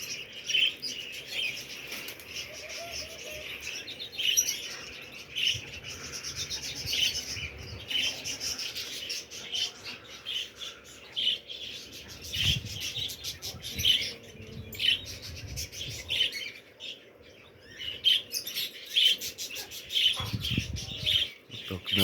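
Pigeons in the sky, with intermittent chirps and rustling, flapping wing sounds over a quiet background, some bursts louder and closer than others.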